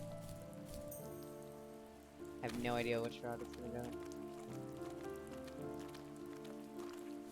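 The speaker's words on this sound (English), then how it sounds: "But the rain is kind of foreboding." Soft, steady rainfall patters in the video game The First Tree beneath sustained musical tones, while someone talks over it partway through.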